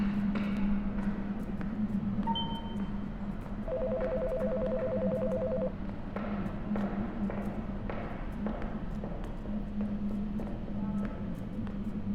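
A phone rings in the video game Until Then: a quiet electronic ringtone of short steady tones over a constant low hum and ambient game sound, with no talking.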